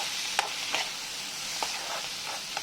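Ceylon spinach fries with salt and turmeric in a pan, giving a quiet, even sizzle broken by a few sharp spatula taps as it is stirred.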